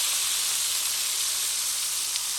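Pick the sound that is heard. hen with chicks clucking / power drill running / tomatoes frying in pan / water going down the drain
tomatoes frying in pan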